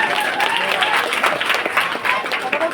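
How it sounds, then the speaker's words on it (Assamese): Loud, dense clapping from an audience at a Bihu comedy show, sustained and close throughout with crowd noise mixed in. "তেওঁলোকৰ কাৰণে জোৰে হাত চাপৰি"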